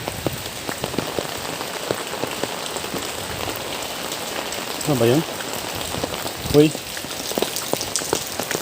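Heavy typhoon rain pours steadily onto surfaces close by, with a brief voice speaking twice over the constant wash of drops.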